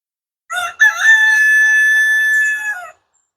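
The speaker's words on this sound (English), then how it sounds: "the chickens add to the authenticity of a farm" A rooster crowing on a farm in Cades Cove, Great Smoky Mountains National Park: one loud, close, drawn-out crow lasting over two seconds, alone against silence.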